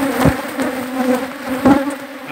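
Africanized honey bees buzz loudly and close by, a dense droning hum with individual insects swelling past in short bursts.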